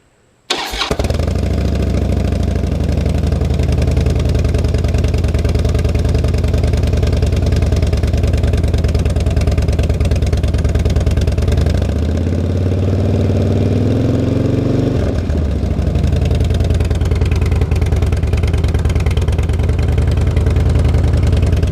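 A Harley-Davidson Dyna motorcycle with a freshly welded exhaust cranks and fires up, then settles into a loud, steady, close-up idle with a deep rumbling throb and a brief dip in the middle before continuing.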